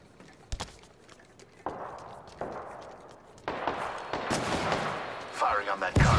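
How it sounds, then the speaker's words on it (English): Gunfire from a weapon aimed at a cargo pod in the video game Apex Legends: sharp single shots at first, then a denser, louder burst of rapid fire toward the end. "Firing on that cargo pod"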